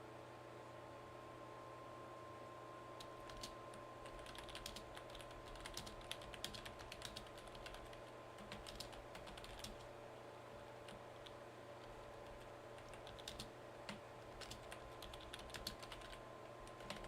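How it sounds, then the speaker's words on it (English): Typing on a computer keyboard during live severe-weather coverage, a steady run of fast, light clicks and taps over a constant hum of room noise, with no talk. "I'm just typing out this new warning that was issued"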